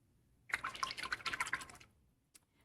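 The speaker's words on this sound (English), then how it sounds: "Rinse my brush, get all that blue off of there." A paintbrush is swished and rinsed in a water jar, making a quick burst of splashing and clinking drips for about a second and a half, followed by a single faint drip, close and alone.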